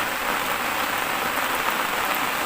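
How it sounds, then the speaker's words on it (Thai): Steady rain pours at a reservoir during a fishing trip, a dense, even hiss throughout with no voices. "ฝนตกครับ วันนี้"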